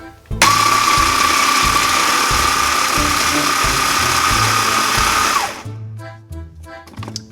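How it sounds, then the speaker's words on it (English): A blender whirs loudly and steadily for about five seconds, blending heated leftover pieces for a Russian-style Napoleon cake mixture, then cuts off abruptly, leaving a few soft clunks and handling sounds. "You load the blender with them. And then you heat the stuff and you blend it."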